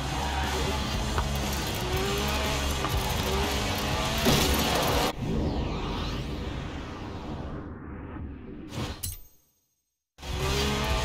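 Lotus Elise sports car with a 1.8 litre engine making 190 horsepower drifting on a track, engine and tyre noise loud and continuous before fading away into silence, then returning abruptly.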